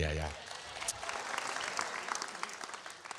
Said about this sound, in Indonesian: ada tepuk tangan ya